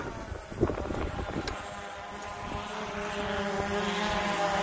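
A camera drone flies outdoors at a lake, giving a steady whirring propeller drone with wind noise, fairly loud and continuous, and no one speaks.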